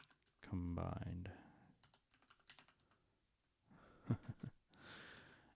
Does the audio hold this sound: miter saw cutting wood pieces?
no